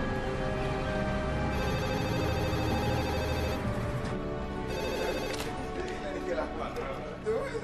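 A desk telephone rings loud and close, its steady electronic bell sustained over a dense mix of background sound, in a scene from a Latin American Spanish-language comedy film.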